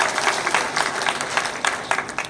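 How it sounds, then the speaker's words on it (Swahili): A crowd at a company gathering gives its distributors a short burst of lively applause, many hands clapping close and steady for a couple of seconds. "Makofi ya distributors wetu."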